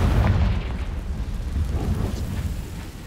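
Fiery blast of the Confringo spell in Hogwarts Legacy, a heavy rumbling boom that sustains loud and low throughout, slowly easing toward the end.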